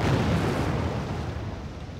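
Tank cannons firing in Wargame AirLand Battle, including Norwegian Leopard tanks reversing while shooting, a dense rumbling barrage of booms and blasts rolling continuously and loudly through the whole moment with no talk.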